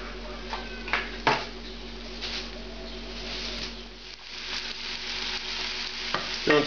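Eggplant fries in olive oil in a pan, a steady close sizzle broken by several light scrapes and taps as it is stirred a little.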